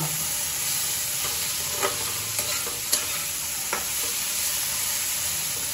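Shrimp and vegetables sautéing in a pan, a steady close sizzle with a few sharp clinks of a spatula stirring against the metal, no talking.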